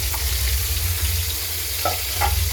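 Fish frying in a pan, giving a steady, loud, close sizzle that runs unbroken throughout, with a couple of faint clinks near the end.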